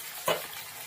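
Potatoes sizzle softly in a pan of hot oil, with one brief louder burst of frying as they are stirred, then a low, even hiss; no voices.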